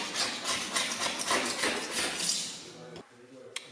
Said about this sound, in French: je vais gratter au scraper